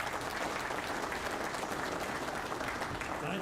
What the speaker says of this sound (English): So they deserve our applause and our thanks.